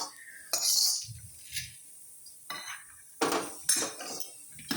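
Roasted coriander seeds being scraped out of an iron kadhai with a metal spoon, several sharp clinks and scraping strokes at irregular intervals, close and alone.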